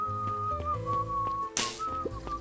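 A character whistles a jaunty tune while strolling away in the video game Beacon Pines: a steady melodic whistle held across the clip over soft game music, with a brief bright chime near the middle.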